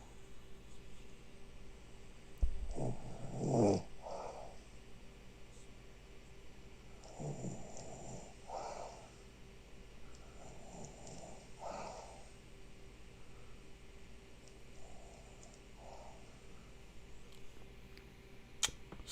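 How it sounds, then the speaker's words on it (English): A sleeping woman snores softly in a quiet room, with faint, irregular snorts and breaths spaced several seconds apart over low background hum. "The snoring has reduced."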